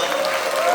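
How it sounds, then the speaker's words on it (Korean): An audience at a Korean political event applauds, a brief, steady wash of clapping heard at close range. "힘찬 박수 다시 한번 부탁드리겠습니다"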